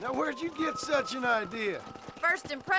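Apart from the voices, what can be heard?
No distinct noise like a dog, phone or traffic.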